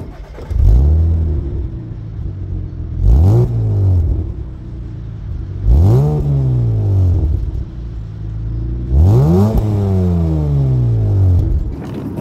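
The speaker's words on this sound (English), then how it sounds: "let's give it a little blip, shall we, to hear what it sounds like" An MG ZT 190 engine is blipped three or four times, each rev rising sharply then falling back to a steady idle rumble, loud and close with no talking.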